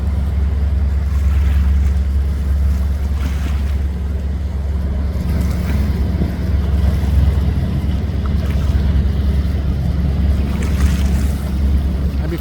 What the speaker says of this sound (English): It's a paddle boat from the American West Fleet.